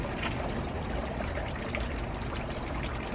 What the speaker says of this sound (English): Let's go ahead and water them.